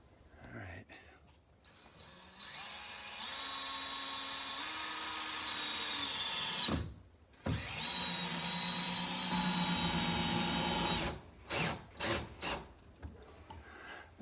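A power drill drives screws into a replacement door frame, whining in long sustained runs that rise in pitch, then breaking into short bursts near the end; a voice speaks between the runs.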